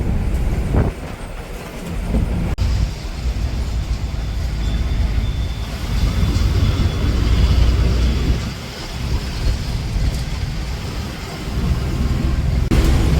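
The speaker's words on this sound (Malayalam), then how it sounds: "അങ്ങനെ നമ്മുടെ ബസ് വിട്ടു" A loud, continuous engine and road rumble comes from inside a moving bus, steady and broadband with gentle swells and a couple of sharp clicks, and no clear talk over it.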